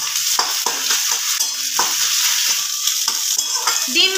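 Eggs frying in a kadai for a dhaba-style egg chicken tarka, with a steady hiss of oil under repeated scraping stirs of a spatula, close and continuous, no voices.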